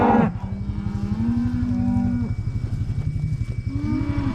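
Cattle mooing in a herd, several long overlapping low moos one after another, loud and close, over a steady background murmur of the animals.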